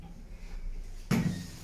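An elevator door in a health centre in Duisburg slides shut with a sudden, fairly close thud and a brief rumbling rattle after a quiet stretch, with no talking.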